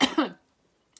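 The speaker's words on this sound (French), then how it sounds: "Purée, ça me fait tousser." A woman gives a short double cough close up, two quick rough bursts followed by quiet and a tiny click.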